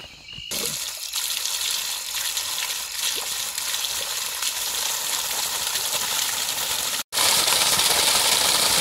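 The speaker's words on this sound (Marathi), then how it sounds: "चला आता मोटर चालू करूया." A water pump motor runs at a jungle washing spot where fish are being cleaned, making a loud, constant rush of churning water and motor noise that carries on for several seconds. It briefly cuts out near the end, and nobody talks.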